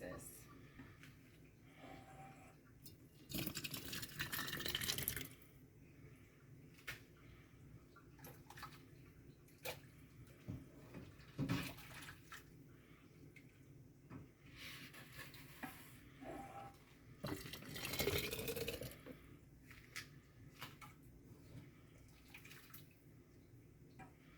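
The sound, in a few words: filling canning jars with navy bean soup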